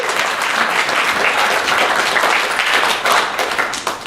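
A room full of people attending a professional wrestling talk claps in a dense, steady burst of applause that stays loud throughout.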